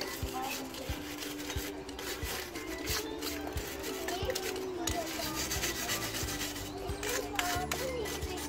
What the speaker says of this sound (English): it's a good idea to give it a good clean with a wire brush